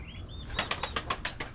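Pigeons flap their wings near a farmyard coop, about eight quick, sharp wingbeats in a rapid rhythmic burst, preceded by a couple of faint high chirps against quiet rural background.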